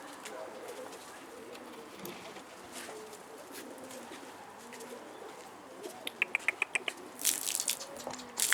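A racing pigeon caught in a net coos softly in the background among outdoor ambience, followed near the end by a quick series of sharp clicks and rustles; people talk briefly.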